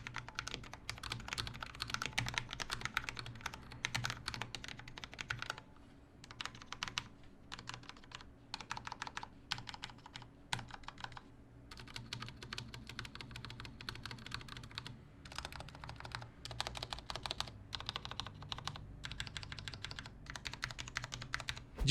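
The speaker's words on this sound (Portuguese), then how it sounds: "vamos para o teste sonoro" Typing on a Cooler Master SK650 low-profile mechanical keyboard, with quick, crisp clicking keystrokes in fast bursts and short pauses, close and clear with no talking.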